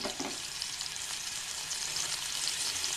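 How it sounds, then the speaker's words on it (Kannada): Mustard seeds splutter in hot ghee and oil with curry leaves in a pan, a steady bright crackling hiss with tiny popping bursts, faint but continuous and with no voices. "ಸ್ವಲ್ಪ ಸಾಸಿವೆ ಕಾಳು ಚಟ ಅನ್ನಲಿ"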